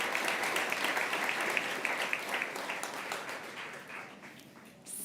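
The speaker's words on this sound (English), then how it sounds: "Please give these panelists a round of applause" Applause from a conference audience at a Stop Food Waste Day event, a dense, steady wash of many hands clapping at moderate distance that thins and fades toward the end.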